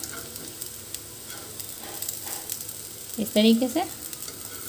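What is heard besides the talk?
snack browning and sizzling on both sides in a pan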